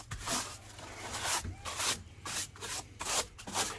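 A small whisk broom sweeps the long bed of a 1983 Ford F100 pickup, giving repeated brisk bristle scrapes in an even back-and-forth rhythm, close and fairly loud with no talking.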